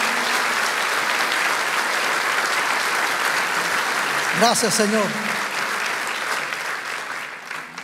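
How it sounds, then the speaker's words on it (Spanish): A church congregation claps in a sustained burst of applause that fills the room, fading toward the end, while someone briefly speaks over it partway through. "Vamos a darle un fuerte aplauso al Señor."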